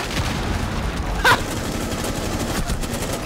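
Gunfire crackles in a shooter video game, a rapid string of close shots with one louder sharp blast in the middle, the exchange continuing at a steady, busy pace.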